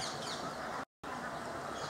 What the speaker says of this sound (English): A farmer just drove all these ducks down to the river.